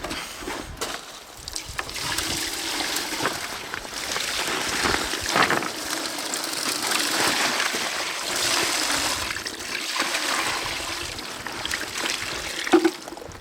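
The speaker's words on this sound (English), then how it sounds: "We'll get some water and we'll wash it out." Water pours and splashes steadily through a Royal Manufacturing highbanker sluice as gold-bearing material is washed, a close, continuous rushing flow with no talking.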